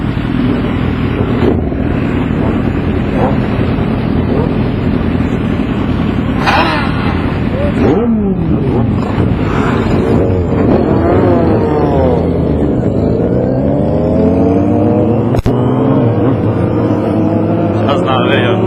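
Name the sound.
motorcycle engines roaring while riding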